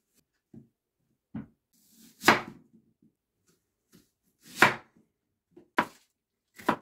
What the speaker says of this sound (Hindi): ये हम जनाब काट रहे हैं प्याज